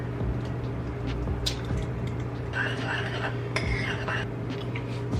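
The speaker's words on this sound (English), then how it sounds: "you just go in and mix this up" Brownie batter with an egg gets mixed in a bowl, a spoon clinking and scraping against the sides in short bursts over a low steady hum.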